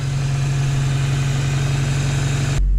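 A 2.3 Ford Ranger pickup engine, recently given a dead miss by a head problem, idles steadily and close by, a constant low rumble that cuts off abruptly near the end.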